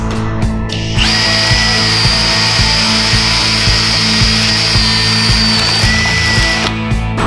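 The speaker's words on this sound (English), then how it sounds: "Now I'm going to enlarge all pilot holes to 7/8." A power drill enlarges pilot holes to 7/8 inch in a Jeep Wrangler panel, a loud sustained high whine with a steady grinding pulse, starting abruptly and cutting off near the end.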